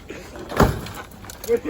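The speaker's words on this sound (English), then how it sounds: "How many door slams can it take?" A single heavy truck door slam lands in the middle, with a few smaller knocks and rattles around it during damage to the truck. Voices are faintly present.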